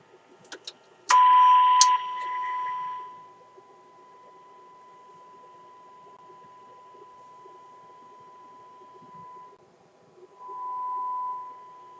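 A steady pure test tone hums from a Sparton Model 67 vacuum tube radio during alignment, holding for several seconds after a brief burst of clatter and fading near the end.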